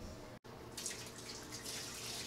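Water runs steadily into a mixing bowl for high-gluten pizza dough, a continuous close splashing pour that grows fuller partway through, with no talk over it.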